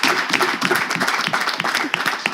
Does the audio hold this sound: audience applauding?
yes